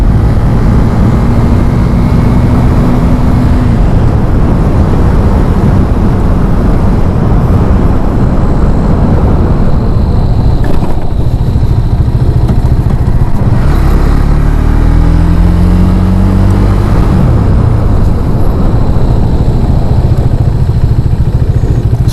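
A 2021 KTM 390 Duke being ridden, its single-cylinder engine droning loud and steady throughout, pitch climbing and dropping through gear changes, wrapped in heavy wind rush with no talk.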